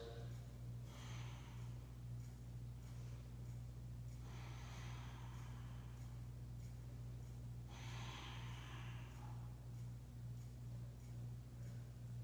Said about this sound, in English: We'll stay here for these last 4 deep breaths.